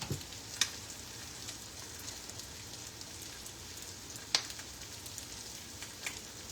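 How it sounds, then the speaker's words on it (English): Eggs frying in a pan with a steady, fine crackling sizzle throughout, punctuated by a few sharp pops and spatters, heard alone at a moderate level. "Just let those eggs cook for a little bit."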